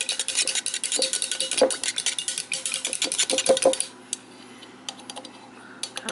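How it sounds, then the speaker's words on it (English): Kebab skewer stirring a strawberry cream mixture inside a whipped cream container, giving a rapid run of close, loud clicking and scraping taps for about four seconds before it quiets to a faint hiss. "And now I'm going to stir it up with"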